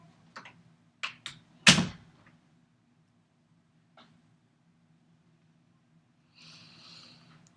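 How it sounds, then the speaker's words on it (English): A door is pushed shut indoors: a few light knocks and clatters build to one sharp thud, then quiet, with a faint rustle afterward. "Shut the door, please."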